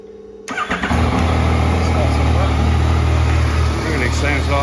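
A 2017 Yamaha MT-09 Tracer motorcycle engine, in good condition, cranks and fires up after a brief moment, then settles into a loud, steady idle with a low throbbing rumble.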